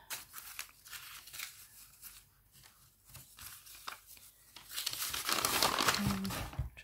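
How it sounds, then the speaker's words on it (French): Paper crinkles and rustles close by in bursts, growing louder and busier toward the end. "J'espère que ça fait pas trop de bruit avec le papier."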